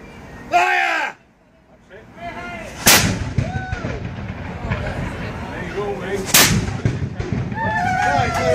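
Artillery guns fire a ceremonial salute at an 80th birthday gathering, two loud booming reports several seconds apart, each rolling off into the distance, with people talking and calling commands in between.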